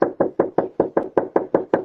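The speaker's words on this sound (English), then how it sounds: "knock on Morris's door" Knocking on a house door picked up by a Ring doorbell camera: a steady run of ten evenly spaced, firm knocks, close and clear, with no voices.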